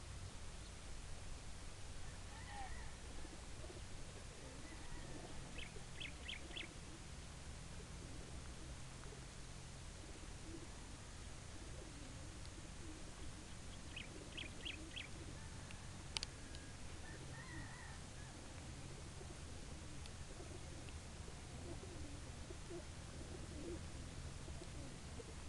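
Racing pigeons cooing in their cages at a race release site in Bagabag, Nueva Vizcaya, with soft, distant coos and a few faint clicks over steady wind-like background hiss.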